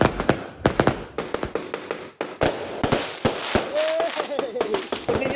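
Firecrackers and fireworks burst during Chinese New Year celebrations, a rapid irregular string of sharp cracks and pops followed by denser crackling, with a whistling rocket rising near the end; voices are faintly audible underneath.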